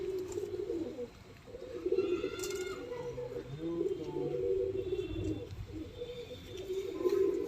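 Pigeons coo close by in near-continuous rolling, throaty calls that overlap and swell in loudness, with a few faint chirps and no talking.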